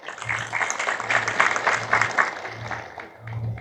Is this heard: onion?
no